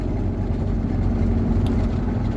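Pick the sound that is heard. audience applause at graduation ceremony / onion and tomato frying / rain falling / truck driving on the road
truck driving on the road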